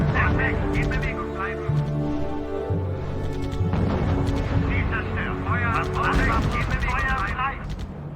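Gunfire from squads and units in the strategy video game R.U.S.E., dense repeated shots and bursts with steady music and battle effects running underneath, while voice lines from the game speak over the action.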